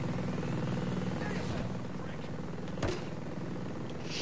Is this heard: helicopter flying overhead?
yes